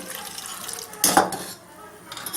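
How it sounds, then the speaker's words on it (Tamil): A short splash of water poured into a pan of anchovy fish curry with spice powders, lasting about half a second amid quiet kitchen background. "கொஞ்சம் தண்ணி ஊற்றிடுங்க"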